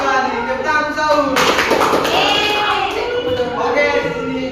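Children in a classroom break into a burst of loud group clapping that starts abruptly and keeps going, with young voices chattering and calling out around it.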